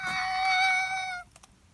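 A single long, tonal meow from a cat in a Littlest Pet Shop cartoon holds steady for just over a second, then cuts off, leaving faint soft clicks and quiet background.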